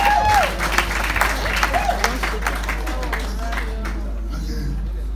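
Wedding guests clap during the vows at a singer's wedding ceremony, a burst of crowd applause that fades out after about four seconds, with talking and murmuring under it and a steady low hum.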